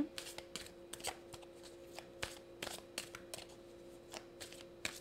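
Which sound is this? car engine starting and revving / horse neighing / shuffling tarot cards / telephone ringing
shuffling tarot cards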